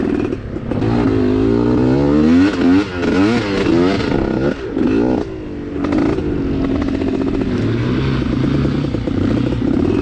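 Engine of an MPX trail motorcycle revving up and down in loud, continuous surges, with rising and falling pitch sweeps and a steady idle between bursts, close and alone.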